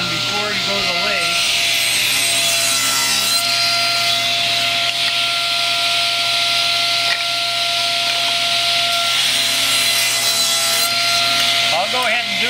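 A handsaw cuts steadily through a wood turning blank, trimming it to an octagon before the lathe; the loud, continuous rasping strokes run alone and close throughout.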